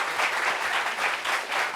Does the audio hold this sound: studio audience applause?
yes